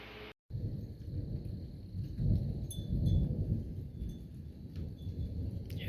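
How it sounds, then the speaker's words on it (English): Low thunder rumbles from a distant storm, a steady broad roll that swells midway, with faint crickets or insects chirping above it outdoors. "Hear that thunder off in the distance?"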